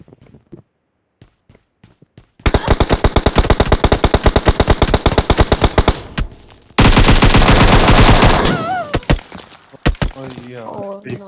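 Scoped rifle fire in PUBG rattles out in two long, loud rapid bursts with a short gap between them. Sparse voices are heard before and after the shooting.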